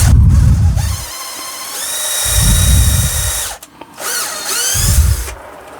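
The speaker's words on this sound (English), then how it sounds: "we've got a bigger drill bit, so we'll just run that through there" Power drill boring a hole with a larger bit while thread grafting an alder tree, loud whining motor in three long surges with brief pauses and a low grinding chatter as the bit cuts through the wood.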